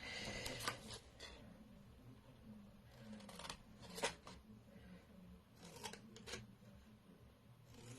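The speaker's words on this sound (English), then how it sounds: "let's cut that. Don't pull it, just cut it." Scissors snipping paper for a double flap fold card, several short crisp cuts in irregular bursts, close and quiet with faint rustling between them.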